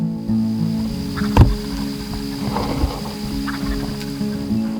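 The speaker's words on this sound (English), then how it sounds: "The tom kept responding, but it seemed he was in a strut area as the gobbles were all coming from the same place" An Osceola wild turkey tom in South Florida gobbles in a strut area, one sharp rattling burst standing out over a steady hum of background noise, with fainter calls following at a moderate distance.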